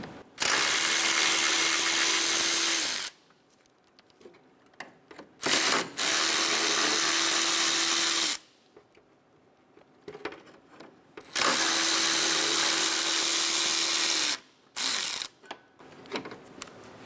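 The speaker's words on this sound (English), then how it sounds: "Remove the 3 12mm bolts on the hood latch." A powered ratchet removes 12mm hood latch bolts on a 2007-2012 Nissan Altima, with several loud, steady bursts of a few seconds each and brief clicks and knocks of handling between them.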